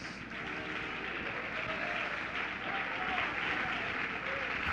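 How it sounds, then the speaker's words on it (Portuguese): Church congregation clapping in a steady, sustained round of applause that fills the room, with faint voices mixed beneath. "Palmas para Jesus."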